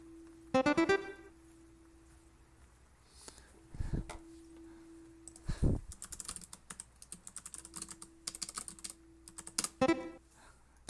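Rapid bursts of computer keyboard typing clatter in irregular clusters, close and fairly loud, broken by short pauses and electronic tones from a drawing game.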